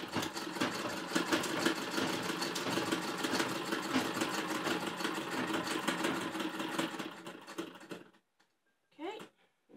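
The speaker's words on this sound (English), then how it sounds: "Just going to sew all the way along" Sewing machine stitching along the edge of a homemade fabric face mask, a steady rapid mechanical whir running loud for about eight seconds, then stopping abruptly into near silence with a brief sound afterward.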